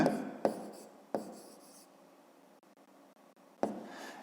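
A pen writes on paper during a fifth-grade geometry exercise, with sharp scratchy strokes starting in several separate bursts and quiet pauses between them.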